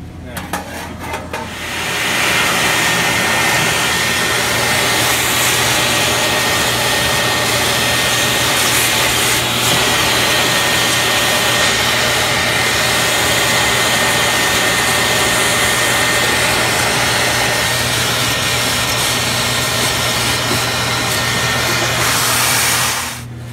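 A shop vacuum cleans up after an evaporator fan motor install in a display case. It starts up and runs as a loud, steady, rushing whine for about twenty seconds, then cuts off.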